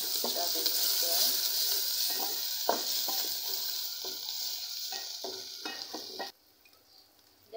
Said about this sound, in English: So we're going to keep our ginger in and garlic. We're going to stir them as well.